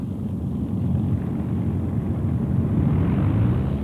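Avro Lancaster heavy bomber engines rumble steadily while the aircraft taxis at an airfield, a continuous deep propeller drone holding at one level throughout, with no talk.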